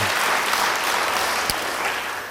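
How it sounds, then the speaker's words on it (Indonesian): A church congregation claps together in a dense, steady burst of applause that holds at full strength, then begins to taper off. "Beri tepuk tangan bagi dia."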